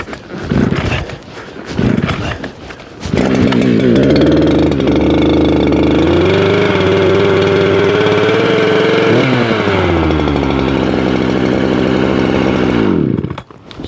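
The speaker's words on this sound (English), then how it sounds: "Started great, and the reason being there's a little bit of heat in the cylinder" A chainsaw in extreme cold gives a few rough pull-start attempts, then catches and roars loudly and steadily up close, its pitch rising and settling before the engine cuts off at the end.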